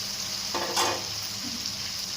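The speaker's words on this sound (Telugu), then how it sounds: "పసుపు వేసుకోవాలి. కొద్దిగా కరివేపాకు వేసుకోవాలి." Turmeric and curry leaves hitting hot oil for a Telugu chicken curry, a sudden loud sizzle bursting up briefly over a low steady frying hiss.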